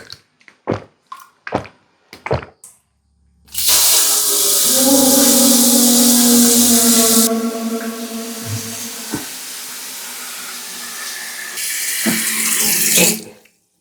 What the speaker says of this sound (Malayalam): ആവശ്യത്തിന് ഓണാക്കിയ പൈപ്പ് ഓണാവൂല, അല്ലെങ്കിൽ അങ്ങ് ഓണായിക്കോളും